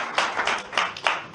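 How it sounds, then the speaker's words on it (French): A few scattered claps from a church congregation, sharp bursts at irregular intervals, brief and close. "Voilà, applaudissez pour elle."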